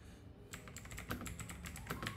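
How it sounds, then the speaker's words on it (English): Quick keystrokes clatter on a computer keyboard while a command is typed into a terminal, a close, irregular run of light clicks after a short quiet start. "you just click on your terminal and type"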